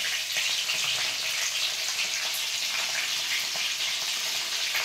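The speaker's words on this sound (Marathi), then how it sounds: "चांगल्याला परतून द्यायची मस्त अशी" Masala-stuffed bell peppers sizzle steadily while sautéing in a pan, a dense, continuous frying hiss with light crackle and occasional stirring, close and unbroken, with no talking.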